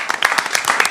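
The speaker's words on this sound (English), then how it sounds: "I give them a big, nice applause." Brief burst of audience clapping at the end of a show, close and fairly loud, lasting under a second.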